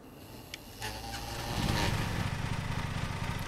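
A lawn mower engine in the video game Lawn Mowing Simulator cranks and starts, then settles into a steady droning idle that rises slightly in revs, continuous and fairly close.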